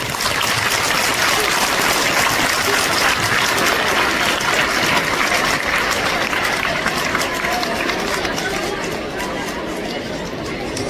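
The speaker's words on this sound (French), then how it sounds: "en la personne de Sœur Agnès Thévenet, que nous vous demandons d'applaudir très très fort s'il vous plaît." Sustained loud applause from an audience greeting a guest at a school welcoming ceremony, a dense continuous clatter of many hands that tapers slightly near the end.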